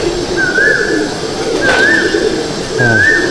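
Pair of Kalanka pigeons cooing in a loft, three rising coos spaced evenly over steady loud background noise.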